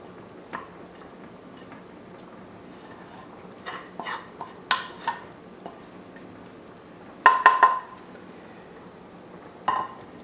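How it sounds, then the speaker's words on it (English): Sautéed sauerkraut is emptied into a pan with scattered clinks and scrapes of utensil on metal, a cluster of sharper knocks near the end over a faint background sizzle, with no talking. "now I will empty this sauteed regular sauerkraut"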